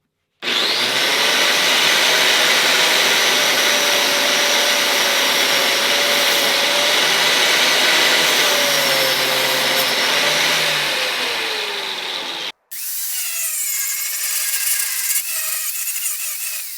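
A grinder fitted with a flap wheel runs steadily while a cleaner is pressed against the spinning wheel, giving a loud, harsh whirring rasp. The rasp cuts off abruptly, and a fainter, higher whine follows as the grinder keeps spinning.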